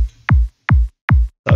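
Three loud, punchy psytrance kick drum hits from a sample, each a sharp click with a deep descending body, spaced evenly and alone, with a fourth beginning at the end.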